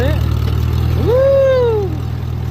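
A Farmall M tractor engine idles steadily with a deep, even throb, heard up close. A brief rising and falling vocal whoop rides over the running engine.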